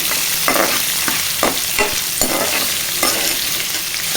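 Gongura curry being stirred in a pan over medium flame, the spoon scraping in a steady rhythm of about eight strokes over a constant sizzle, close and alone with no talk.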